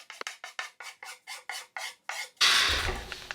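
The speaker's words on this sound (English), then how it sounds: "Then I take a file and just rough out those edges" A hand file rasps along the edges of edge banding on a woodworking nightstand build, about ten short, evenly spaced rough strokes close up, followed by a louder, longer scraping sound.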